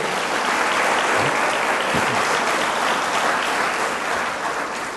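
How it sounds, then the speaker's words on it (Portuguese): A church congregation gives sustained, dense applause at steady volume, filling the room throughout with no voice on top. "dê um forte aplauso ao Senhor pelo sucesso que Ele tem para você"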